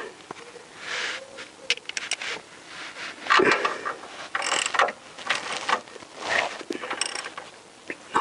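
A ratchet wrench with a 15mm socket tightens a bolt while the oil pump gasket is replaced on a Vauxhall Insignia CDTi, giving repeated close, sharp ratcheting clicks in short bursts.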